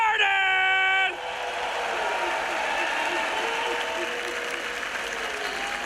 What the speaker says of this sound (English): You'll get one more round of applause for all the teams as we get this day started!